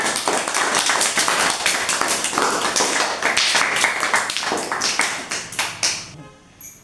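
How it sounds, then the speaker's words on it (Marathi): A group of children at an anganwadi clapping their hands together, a loud, dense burst of rapid claps that goes on for several seconds before dying away. "मग टाळ्या वाजवा एकदा"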